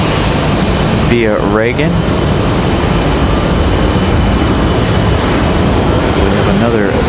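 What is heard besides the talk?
American Eagle CRJ jet departing, PSA Airlines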